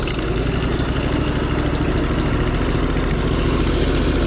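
Craftsman LT4000 lawn tractor engine running steadily while cruising in third gear, a constant mid-to-low motor drone with vibration, loud and close, no voices.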